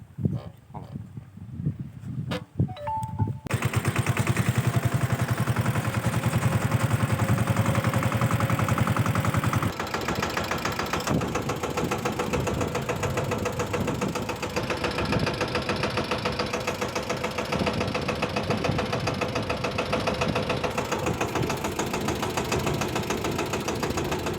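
After a few clunks, a tractor's diesel engine runs loud and close, a steady rattling chug that drops slightly in pitch partway through and keeps going.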